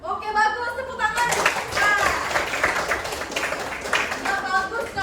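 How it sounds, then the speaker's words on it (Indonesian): Students clap together in a high school classroom, a dense burst of applause with some laughter. It follows and overlaps a teacher's voice and fades back toward talk at the end. "Oke, bagus, tepuk tangan."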